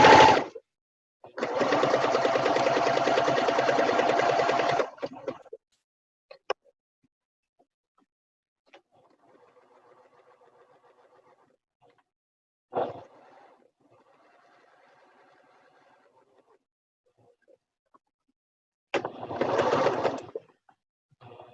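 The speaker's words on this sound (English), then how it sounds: "I'm going to leave the needle down, raise my presser foot, and swing it around." A sewing machine stitches a fabric tray in separate close bursts: a long run near the start, a brief pulse midway and a short final run, with quiet handling sounds between.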